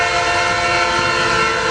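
A CN mixed freight train passes the Emmons Boulevard railroad crossing in Wyandotte, Michigan, its horn blaring loud and steady over the rumble of the rolling cars.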